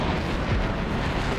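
In War Thunder, a Kfir C.2 fires its 30mm Aden cannons in a loud, sustained burst that blurs into one heavy, rumbling roar for just over a second, with no one speaking.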